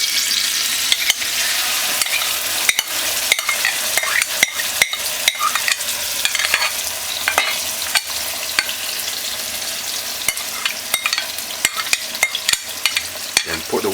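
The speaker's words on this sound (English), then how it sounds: "after 2 minutes with the hot oil, add the chicken" Chicken pieces frying in hot oil for a Jamaican brown stew fricassee, a steady loud sizzle and crackle throughout with scattered sharp pops and spatters, no voices.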